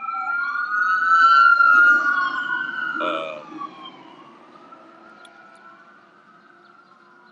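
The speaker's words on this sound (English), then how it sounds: "Here come the sirens." Wailing sirens rise and fall steadily, loud at first and then fading as they move away, with a brief murmured voice in the middle.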